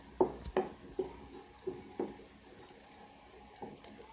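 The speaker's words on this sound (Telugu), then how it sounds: "దోరగా వచ్చే వరకు ఫ్రై చేసుకుందాము" Sprouts frying in a pan for a sprouts curry, salted and cooked until golden: a faint, steady sizzle with several soft stirring scrapes and taps of a utensil against the pan.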